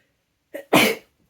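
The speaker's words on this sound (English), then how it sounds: "hang on, I'm going to sneeze." A single sneeze close to the mic, with a short sharp intake burst and then a loud explosive release, alone with no talk around it.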